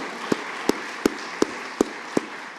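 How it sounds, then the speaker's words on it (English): At a lecture on Native American history and civil rights, six slow, evenly spaced hand claps ring out one after another, close and distinct against a quiet room. "Let's give LaDonna Harris another round of applause."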